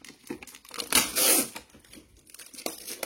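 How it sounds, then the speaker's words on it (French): A cardboard box for an electric GoodHome roller shutter being opened, with scattered crinkles and tears building to a loud sustained rip in the middle, close by with no talk. "Du coup, il faut ouvrir la boîte."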